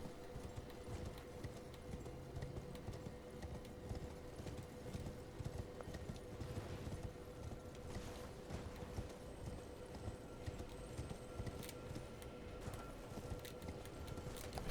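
Horse hooves clip-clop steadily in the video game Elden Ring, a faint, continuous rhythmic patter under a constant low background hum.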